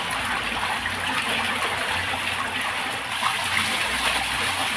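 A clear, cold stream of free-flowing water rushes and splashes steadily close by, a constant broadband wash with no break.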